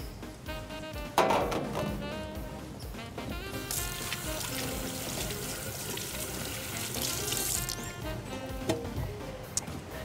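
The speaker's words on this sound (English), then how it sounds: "I'm going to give my hands a rinse." Tap water runs steadily into a kitchen sink while hands are rinsed after rubbing seasoning onto pork, a continuous splashing flow with swells of louder spatter, close and without talk.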